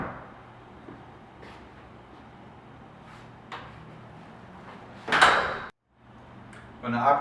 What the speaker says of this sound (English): When shutting the sliding doors, you'll hear an audible click, and you'll know it's engaged.